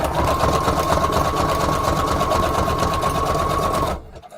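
A sewing machine stitching through a scrap paper collage runs in a rapid, even, continuous whir at close range, then stops abruptly near the end.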